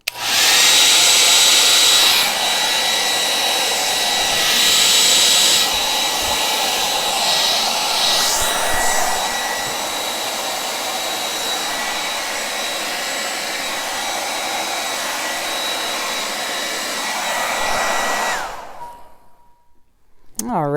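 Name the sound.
blower blowing out acrylic pour paint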